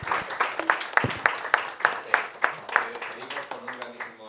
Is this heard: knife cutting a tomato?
no